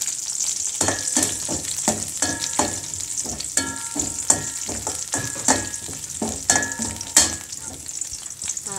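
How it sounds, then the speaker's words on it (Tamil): Curry leaves, ginger and garlic sautéing in a pan, a loud crackling sizzle punctuated by repeated sharp scraping strokes of a spoon against the pan, no talking. "இப்போ கருவேப்பிலை போட்டு வதக்குறோம். கொஞ்சம் இஞ்சி பூண்டு வதங்கினதுமே"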